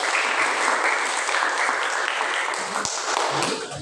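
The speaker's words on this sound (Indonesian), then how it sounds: "tepuk tangan untuk kelompok satu dulu" A classroom group of students and teachers applauds the first group to perform, steady dense clapping from a nearby crowd lasting throughout without a break.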